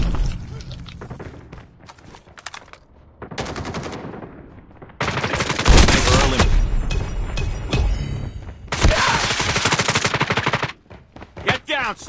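Assault rifle fire from a video game comes in loud rapid bursts, with quieter stretches of single shots and footsteps between them. Long sustained automatic volleys dominate the middle and later parts.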